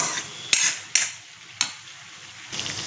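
Three eggs fry in a pan with a steady sizzle, broken by a few sharp metallic clatters of a utensil against the pan.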